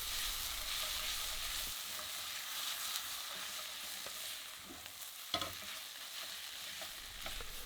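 A steady, broadband sizzle of potatoes frying over high heat in a pan for Lyonnaise potatoes, with occasional scraping and stirring clicks, no voices.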